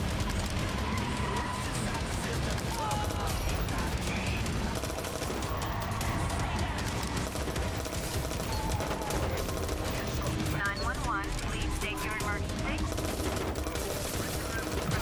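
Rapid gunfire bursts crackle through the Watch Dogs 2 video game, mixed with game engine noise and vehicle sounds, continuous and busy throughout.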